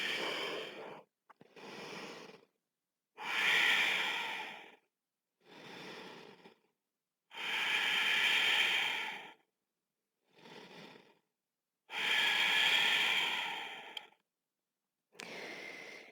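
Yoga breathing during a power yoga session: a series of audible inhales and exhales, breathy and airy, in about nine separate breaths of varying length with clear silent pauses between them.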